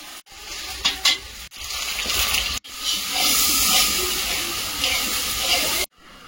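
Fish curry sizzles loudly in a pot over heat, with steady frying hiss broken by short stirring scrapes and a couple of brief pauses before cutting off abruptly.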